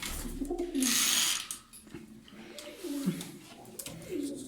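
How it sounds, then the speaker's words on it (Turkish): Pigeons cooing in a loft: a few soft, close coos with rising-falling contours, plus a brief burst of wing flutter or rustle near the start, fairly quiet overall. "Bakın çekilişteki kuşlar bunlar."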